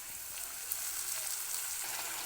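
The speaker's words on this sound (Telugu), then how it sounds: "ఇలా మంచిగా ఫ్రై అయిన తర్వాత బ్రౌన్ అండ్ కలర్ వచ్చింది కదా" Eggplant (brinjal) curry frying in a pan, a steady close sizzle and crackle of oil running evenly throughout with no voices over it.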